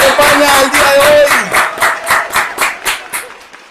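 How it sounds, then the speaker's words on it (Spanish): Applause greets a guest: a burst of clapping at first, then slowing into a dozen or so loud, evenly spaced single claps that fade toward the end. "Hoy quiero que recibamos con un fuerte aplauso a Javier Gironza desde Rosso"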